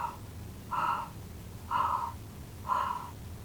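A voice imitating a monster's scary panting, three heavy, breathy rasping pants evenly spaced about a second apart, close and alone.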